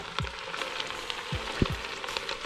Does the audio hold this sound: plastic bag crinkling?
no